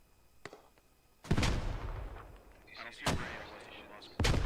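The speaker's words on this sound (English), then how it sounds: "Mortars back up and running, off and on." Mortar rounds thump in a military shooter game, a sharp heavy blast followed by more booming impacts and rumble at intervals, with faint radio chatter between them.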